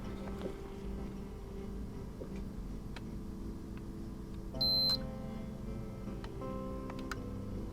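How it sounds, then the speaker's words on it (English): A multimeter on a continuity check of solder pads during a GameCube XenoGC mod gives a short, clear beep partway through, over a quiet, faintly buzzing room with a few small ticks and no speech. "Just gotta do a quick check with the multimeter to make sure I didn't bridge those pads."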